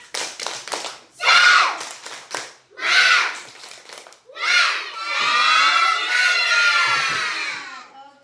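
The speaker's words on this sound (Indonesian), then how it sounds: "Coba kasih dulu tepuk semangat." A class of young children performs a spirited rhythmic clap cheer, bursts of claps followed by loud excited shouting and cheering from the group, close and energetic.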